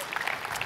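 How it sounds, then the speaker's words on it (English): A church congregation applauds, a brief dense wash of many hands clapping at moderate distance, evenly sustained without pauses. "that deserves a great applause to God for that"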